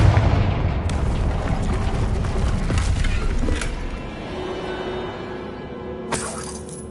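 A Confringo fire spell goes off in Hogwarts Legacy as a loud, booming blast with a crackling, shattering tail that fades over several seconds, followed by a brief bright burst near the end.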